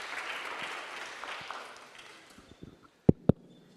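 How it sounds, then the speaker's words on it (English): A conference audience at an art event venue gives a round of applause that gradually fades away, followed by two sharp, loud knocks near the end. "maybe we can give him a round of applause again for letting us use this gorgeous venue"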